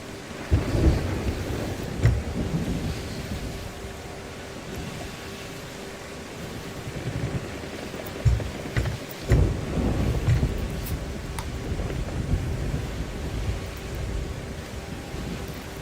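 Heavy rain hisses steadily around a sailing boat in a video game storm, broken by several loud, close rumbling thunder cracks spread across the stretch, with no voices.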